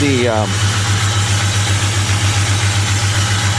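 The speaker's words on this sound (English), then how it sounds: "We're just gonna let it idle and warm up now." A car engine idles to warm up in freezing, frozen conditions, giving a steady, close, even drone throughout, with a brief voice at the very start.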